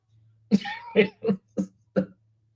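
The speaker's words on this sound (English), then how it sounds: "Let me clear my throat." Someone clears their throat close up with a short series of five harsh, rhythmic coughing rasps over a low background hum.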